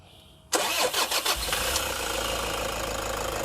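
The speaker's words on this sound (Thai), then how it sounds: "เดี๋ยวผมจะสตาร์ท เครื่องให้ดูนะครับ" A Toyota Commuter van's diesel engine cranks briefly, catches with a loud burst, then settles into a steady, rumbling idle close by.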